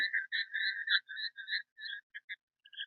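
A frog croaks at night beside a lake during a night fishing trip, giving a quick run of bright, close, chirping calls in short bursts with brief gaps, with no other sound around it.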